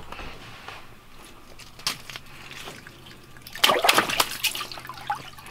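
A pike released back into lake water gives a short, close splash and sputter of water, preceded by faint trickles and drips over quiet outdoor background.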